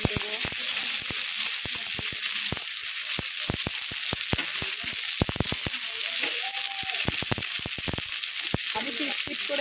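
Chopped onion, tomato, garlic and green chili fry in hot oil in a pan for a Bengali hilsa mash, a constant bright sizzle broken by sharp crackles and pops, close and loud with no voices.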